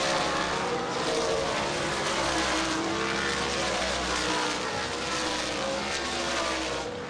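Sprint car engines roaring at Dixie Motor Speedway during a super sprint race, a loud, continuous dense drone with several cars running together that stays strong throughout.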